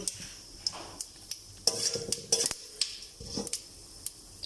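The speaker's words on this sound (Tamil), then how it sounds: "சட்டி கொஞ்சம் எண்ணெய் ஊற்றி இதென்ன போடுறீங்க? கடுகு தாளிப்பு, கொஞ்சம் வெந்தயம்" Mustard seeds and fenugreek crackle in a little hot oil in a pan, with sharp close clinks and scrapes of a metal spoon on the pan over a faint sizzle, no voices.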